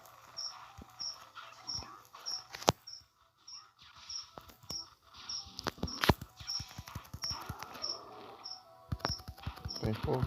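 A cricket chirps steadily in The Legend of Spyro: The Eternal Night, repeating regular high trills over soft footsteps and faint background sounds.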